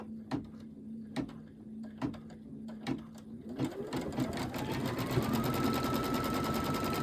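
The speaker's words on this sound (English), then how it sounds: "I'm going to stitch that one down" A sewing machine stitches fabric for a quilt block, starting with a few slow separate thumps, then speeding up into a steady continuous whirring run, close and fairly quiet.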